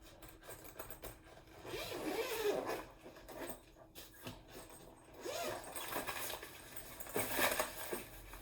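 Zipper on a Delsey ConnecTech polycarbonate suitcase being pulled along a compartment, giving soft intermittent scraping zips spread over several seconds at a moderate, close level.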